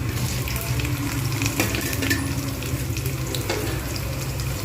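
Chopped onion frying in a pan with garlic while cooking water spinach, a steady loud sizzle with occasional stirring scrapes, close by and continuous.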